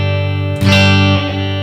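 Distorted guitar sustains through a Quad Cortex flanger with a square waveform, a loud held chord that jumps abruptly into a brighter, wider sweep partway through before settling again.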